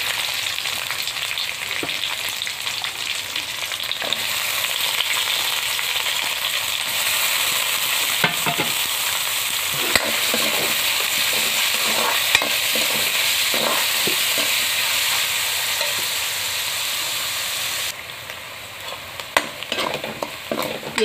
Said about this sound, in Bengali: পেঁয়াজ ভাজি হয়ে গেছে বন্ধুরা